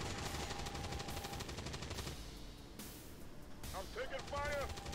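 Rapid automatic gunfire from a squad battle in XCOM 2 in a very small corridor, dense bursts of shots followed by a brief lull and electronic chirps, with talk over it.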